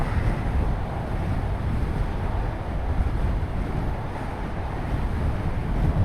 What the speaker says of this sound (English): I'm going to go back because it's so windy here